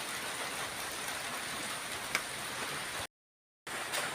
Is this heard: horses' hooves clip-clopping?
no